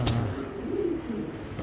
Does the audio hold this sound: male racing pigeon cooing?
yes